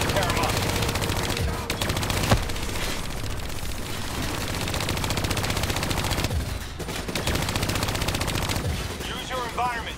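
Hijacked turret in Call of Duty: Black Ops III pours out loud, sustained machine-gun fire with dense rapid rattling throughout, mixed with explosions and game effects, and a brief lull near the middle.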